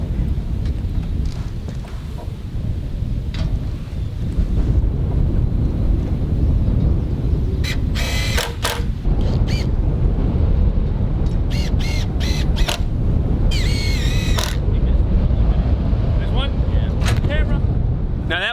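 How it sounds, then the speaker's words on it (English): Strong wind buffets the microphone high on the roof of a hunting cabin under construction, a constant low roar with some scattered knocks and brief sounds breaking through. "I can't hear you, it's too windy up here"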